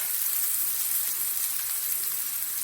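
Curry leaves sizzling in a hot pan while egg bhurji cooks, a steady bright hiss of frying that holds evenly and close throughout.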